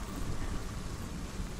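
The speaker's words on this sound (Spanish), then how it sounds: "Mira la lluvia como suena, tú." Rain falling in the video game Hellblade: Senua's Sacrifice, a dense, steady broadband downpour hiss with a low rumbling undertone, constant and loud throughout without any voices.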